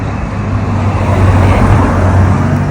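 Loud, continuous street traffic in Blantyre, with cars running a one-way system and queued for petrol, forming a dense engine rumble and roadway wash close by.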